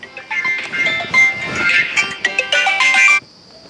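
A phone ringtone plays a bright, warbling electronic melody for about three seconds, then stops abruptly, leaving a faint tone.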